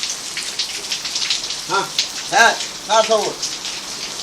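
Steady rain falls and patters hard on surfaces outside a Saudi home, a constant dense hiss while someone speaks briefly over it.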